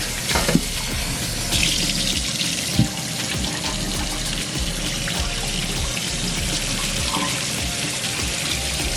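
Pork belly rinsed under a steady stream of running tap water in a sink, a continuous close splashing and trickling with a few brief louder knocks, no talking.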